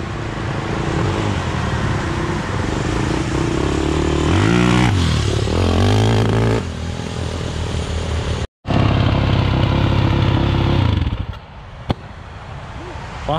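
A homemade tractor powered by a Yamaha YZ450F motorcycle engine runs loud and close, revving up and down with rising and falling pitch, briefly cutting out once before roaring again, then settling to a lower idle while people talk over it.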